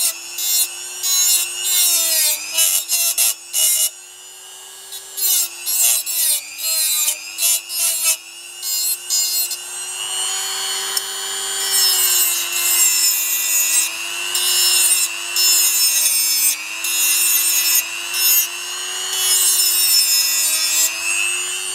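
Hand files rasping on a sheet metal plate for a Rohm pistol, loud repeated scraping strokes in a steady rhythm, later merging into a continuous grinding rasp.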